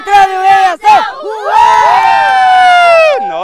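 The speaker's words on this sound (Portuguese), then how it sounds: "o grito de guerra de vocês é enorme" Outdoor crowd of Pathfinder scouts at a campori shouting their club war cry in unison, a loud chant with a brief break before a long sustained group yell that tails off, children's and adults' voices blending.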